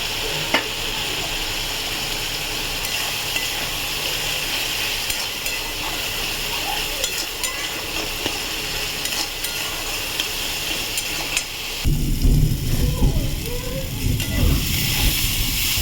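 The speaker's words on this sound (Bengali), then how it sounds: "মশলাটা ভালোভাবে কষে দিচ্ছি।" Spice paste sizzles and fries in a pan for a Bengali fish curry, with steady scraping stirs throughout and a louder burst of frying and stirring near the end.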